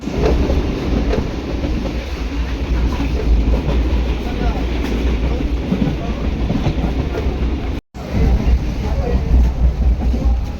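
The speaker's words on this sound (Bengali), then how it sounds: "এটা আমাদের ট্রেন, এটা যাবে বসিরহাট" A passenger train on the way to Basirhat runs on its tracks, heard from inside: a continuous loud rumble and rattle of wheels and carriages, with a brief dropout near the end.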